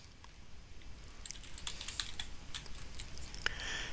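Someone types stock ticker symbols into TC2000 charting software on a computer keyboard: quick, uneven bursts of light key taps up close, with a slightly louder keystroke near the end.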